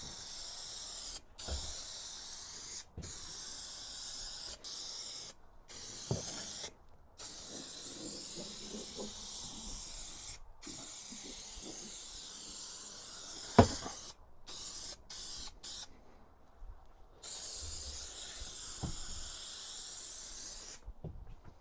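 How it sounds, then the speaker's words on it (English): Contact adhesive sprayed from a pressurised can onto the wall panels inside a VW Crafter van, long continuous hissing bursts broken by short pauses, close and steady with no talk. "Use the contact adhesive, and we're just going to coat all the panels where we're going to attach the carpet lining."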